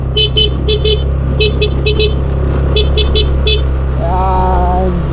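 A vehicle horn honks in short repeated toots, several quick beeps in clusters, over a steady engine drone, then a longer tone near the end.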